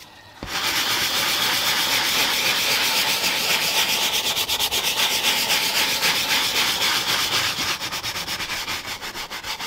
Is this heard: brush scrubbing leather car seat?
yes